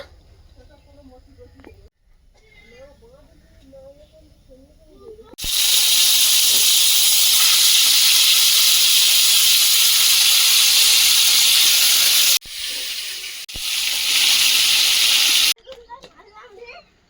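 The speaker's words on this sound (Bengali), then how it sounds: "কড়াইতে তেল দিয়ে দেবো" Voices chat briefly, then hot oil in a wok bursts into a loud, steady sizzle that hisses on for about ten seconds with one short dip.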